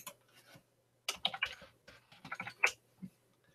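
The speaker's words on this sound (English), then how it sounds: "I'm going to do some typing underneath here." Short bursts of close keyboard typing, quick clicking keystrokes in a few clusters separated by brief pauses, nobody speaking.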